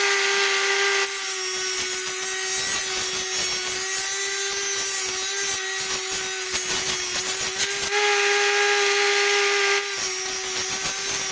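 A new motorcycle stator is hand sanded level with 60 grit sandpaper, making a continuous close scratchy rubbing with short pauses, layered over a steady background tone.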